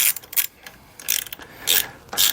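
A ratchet snugs down bolts on a Baker luggage rack fitted to a Polaris Slingshot, producing close, crisp bursts of rapid clicking in short repeated strokes separated by brief pauses.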